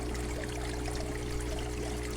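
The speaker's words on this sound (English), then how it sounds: "See the water just from my pipe on the top. It's coming out real slow." Water trickles slowly from the top pipe of an aquaponics setup, a steady soft dribble over a constant low mechanical hum, with no voices.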